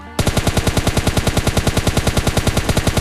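Rapid automatic gunfire in a shooting video game, a loud continuous burst of evenly spaced shots at close range, with no talk.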